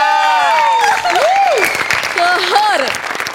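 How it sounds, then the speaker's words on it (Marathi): A studio audience at a comedy show claps loudly and steadily throughout, with a loud, animated voice carrying over the applause. "जोरदार टाळ्या"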